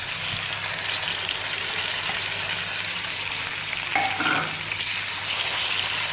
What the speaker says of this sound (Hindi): अब मैं इसके अंदर चिकन ऐड करूँगी।